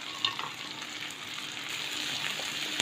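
Tomatoes and cashews sauté in a hot pan for butter chicken, making a continuous close, loud sizzle with faint stirring clatter and no talking.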